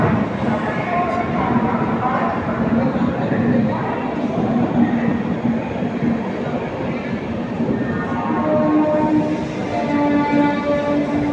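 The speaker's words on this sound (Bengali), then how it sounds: "এই মুহূর্তে আমাদের ট্রেন নির্ধারিত সময় থেকে 1 মিনিট দেরিতে ছেড়ে দিল হাওড়া জংশন থেকে" The Howrah–Balurghat Express pulls out of Howrah Junction behind a WAP-7 electric locomotive, a loud, steady rumble of wheels and carriages with faint tonal hums, rolling continuously throughout.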